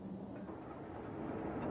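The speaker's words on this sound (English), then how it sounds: "A Black 5 loco built in 1937 hauled the inaugural train" A 1937 Black 5 steam locomotive hauls a train on the Fort William to Mallaig line, making a faint, steady rolling rumble from some distance away, with no voices.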